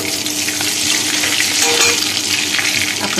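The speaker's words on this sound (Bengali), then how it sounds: "কালো জিরে কাঁচা লঙ্কা ফোড়ন দিয়ে দিলাম" Black cumin seeds and green chilies dropped into hot oil in a kadai for tempering, a loud close continuous sizzle and crackle with light stirring throughout; no speech.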